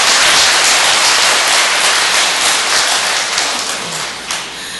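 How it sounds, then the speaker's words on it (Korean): Dense applause fills a church hall during a Cheondogyo commemoration ceremony, a loud continuous patter of many hands that slowly thins and fades toward the end. "일단 대표해서 두 분께 큰 박수 부탁드리겠습니다."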